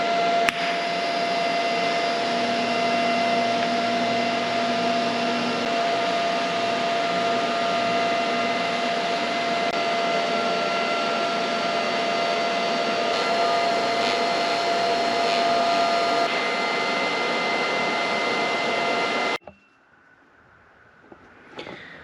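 Brackets welded onto the frame rails of a Cummins-powered Dodge truck, giving a steady, loud, continuous hissing buzz for about nineteen seconds before it cuts off into quiet workshop noise.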